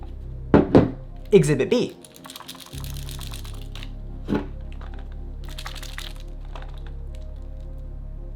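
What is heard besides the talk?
stiff clips on Sony A7S III camera clicking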